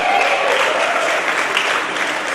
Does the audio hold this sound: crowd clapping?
yes